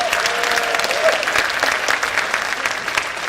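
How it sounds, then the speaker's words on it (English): Audience applause at a middle school band concert, steady dense clapping from a crowd filling the room throughout with little variation, a brief faint tone early on. "Give them another round of applause."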